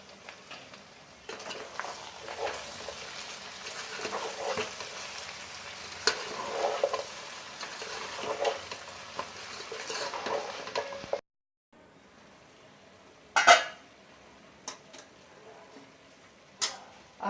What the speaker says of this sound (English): While the masalas are frying